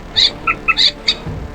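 A moorhen gives several short, high chirping calls in quick succession, clear and close, with a brief low thump at the end.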